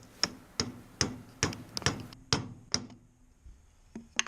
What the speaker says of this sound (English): get yourself a mallet, and gently tap the PVC in, being careful that you don't snap it in half